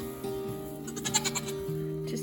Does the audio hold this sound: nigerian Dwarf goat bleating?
yes